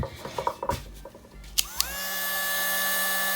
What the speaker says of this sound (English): that's my Dremel